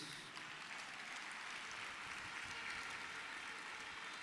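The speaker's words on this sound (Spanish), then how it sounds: "Es un aplauso para el gobernador de Denver" An audience listening to a sermon applauds in a soft, distant, steady wash of clapping that holds evenly from start to finish.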